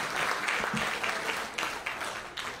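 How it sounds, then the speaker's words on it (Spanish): Moderate audience clapping at a sports gala, a fairly quiet, steady patter with a few sharper individual claps standing out, slowly easing off. "El aplauso cariñoso para ella."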